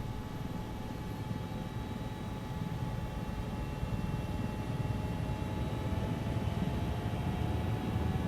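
A helicopter in the video game Squad starts up with a steady engine drone and faint whining tones, holding a constant level throughout with no talking.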